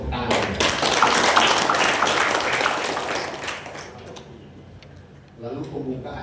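Audience applause at a regional church working meeting in West Kalimantan, a broad wash of clapping that swells loud in the first seconds, then thins and fades while a voice speaks over it.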